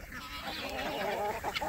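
Chickens in a backyard flock at morning feeding time, clucking and fussing in a busy, continuous chatter of overlapping calls, fairly close and steady, with a few sharper squawks near the end.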